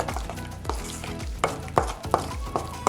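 A spoon stirs a pumpkin Danish mixture in a bowl, giving a run of soft, close scraping strokes in an uneven rhythm with no talk over them.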